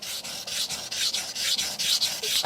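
A knife blade is rubbed back and forth across a Sun Tiger GC220 grit water stone to fix an uneven bevel, giving a rhythmic, close, gritty scraping at about four strokes per second.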